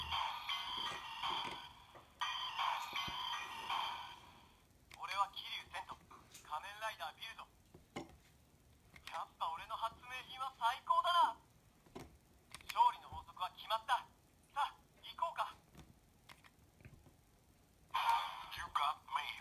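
A Kamen Rider Build Phone transformation toy plays its electronic sound effects and voice lines in loud, bright, tinny bursts separated by short silences, with a recorded speaking voice among the chimes.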